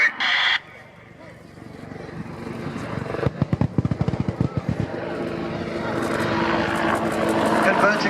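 Military aircraft at the Royal Navy air day at RNAS Yeovilton fires a rapid burst of about ten sharp bangs, loud and evenly spaced, followed by a swelling jet-engine roar, all over broad outdoor airshow ambience.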